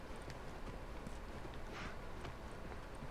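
Horse hooves clip-clopping in The Last of Us Remastered on a campus, faint soft steps over a steady noisy background.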